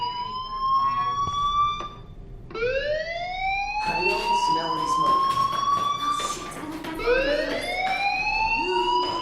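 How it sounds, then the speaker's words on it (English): A school fire alarm in the video game Life Is Strange, with a rising electronic siren wail that repeats several times, loud and close, while people talk underneath. "Hey, do you hear that fire alarm?"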